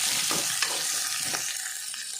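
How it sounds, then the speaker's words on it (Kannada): Onion frying in a pan for chicken masala gives a loud, steady, close sizzle with a few soft stirring scrapes over it and no voices. "ಒಂಜಿ ನೀರುಳ್ಳಿ ಲಾಯ್ಕ್ ಫ್ರೈ ಆವಡು ನೀರುಳ್ಳಿ ಲಾಯ್ಕ್ ಕಾಯೋಡು"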